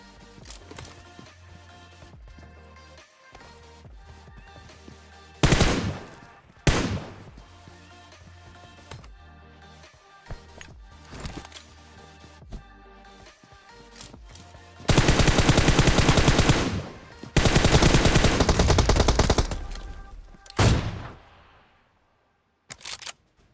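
Gunfire from the PUBG Mobile video game, including AWM sniper play, comes as rapid automatic bursts and single sharp shots. Two loud sustained volleys sit in the middle, with no talk.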